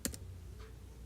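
Two quick keystrokes on a computer keyboard while working in Matlab, close and crisp, followed by a faint softer tap in a quiet room.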